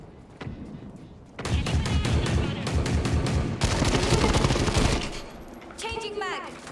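Video game gunfire in a first-person shooter: rapid bursts of automatic fire and dense volleys, loud and close, running for several seconds with a voice briefly heard in the mix.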